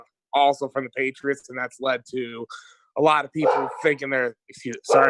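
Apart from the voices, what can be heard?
dogs barking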